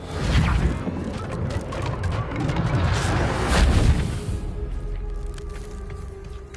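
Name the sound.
Confringo blasting spell, Hogwarts Legacy video game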